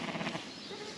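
Sheep bleating close by during hands-on handling of a sheep with brambles caught in its fleece in Devon, a single short strained bleat filling most of the second.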